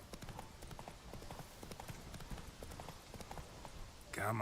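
Geralt's horse Roach trots along in Witcher 3, hooves clip-clopping in a steady rhythm at moderate volume, with game ambience around it and a brief louder burst of noise at the very end.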